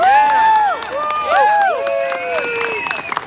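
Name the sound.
crowd applauding the president at rally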